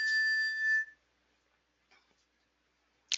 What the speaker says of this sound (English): Every time you hear that ding ding on my phone, it's a trade going off.